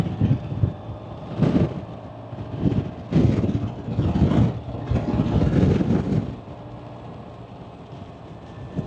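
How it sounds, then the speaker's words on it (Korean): Wind buffeting the microphone while riding a Honda Dio 125 scooter, loud rumbling gusts in uneven bursts over a steady low road drone that eases toward the end. "아 바람 분다"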